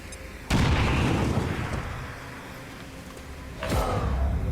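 Two heavy booms from grenades in the XCOM 2 strategy game, the first striking loud and rolling out into a long rumbling decay, the second arriving about three seconds later, with no talking.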